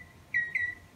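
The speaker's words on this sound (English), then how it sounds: "I hope you can hear that very lovely bird singing up there in" A bird sings somewhere up in a tree on a bright morning outdoors, giving two short, clear whistled phrases that stand alone over a quiet background.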